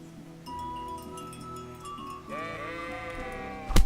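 A sheep in Kingdom Come: Deliverance gives one long, loud wavering bleat over a steady low game ambience, ending with a sharp impact thud.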